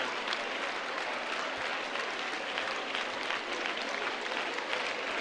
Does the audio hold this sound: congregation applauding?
yes